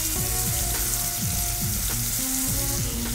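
Raw ground onion paste frying in a hot pan, a steady loud sizzle with repeated scraping stirs of a spoon against the metal at a regular rhythm.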